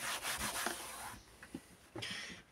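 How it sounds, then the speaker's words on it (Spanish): A cloth soaked in alcohol rubs across a surface to clean it. The soft, quiet scrubbing strokes repeat with small knocks and rustles in between. "echamos un poquito de, como hemos hecho con el primero, de alcohol para limpiar un poquito la zona"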